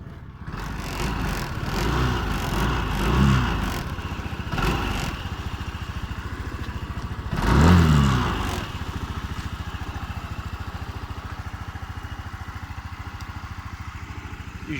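A Honda Fes 125 scooter with a 125cc engine idles on its centre stand, a steady close puttering drone that swells briefly twice, with no talk.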